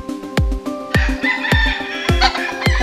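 Gamefowl chickens at a fighting-cock game farm cluck close by in a busy, overlapping chorus, with a rooster's crow among them and short sharp calls repeating every half second or so.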